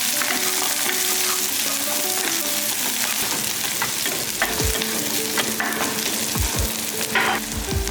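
Chopped shallots and garlic frying in a pan for tomato dal, a strong continuous sizzle with stirring scrapes and spoon knocks toward the end, close and loud with no talking.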